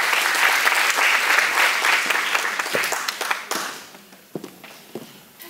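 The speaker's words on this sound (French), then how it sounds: "Sur vos applaudissements, s'il vous plaît." Audience applause at a Gabonese ceremony for the International Day of French Teachers, a dense wash of many hands clapping loudly, then thinning into scattered individual claps as it fades out.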